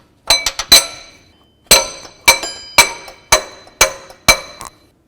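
Small hammer striking the water pump on a 2004-08 Ford F-150, giving sharp metallic taps: a quick cluster of three, a pause, then five evenly spaced ringing blows, each decaying briefly, close and alone.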